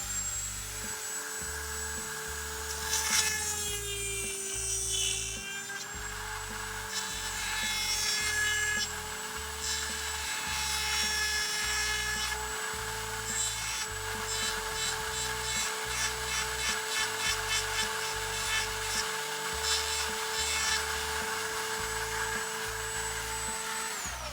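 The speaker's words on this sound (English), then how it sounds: "you take a Dremel and you follow the curvature that's already there" Dremel rotary tool grinding the plastic chassis of a Scalextric slot car, a steady high whine with rasping bursts as the bit bites, intermittent rhythmic scraping, close and moderately loud.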